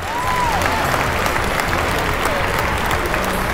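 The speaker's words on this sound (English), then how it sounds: "Everybody clapping, man." An audience applauding steadily and loudly for several seconds, a dense wash of clapping that stays even throughout.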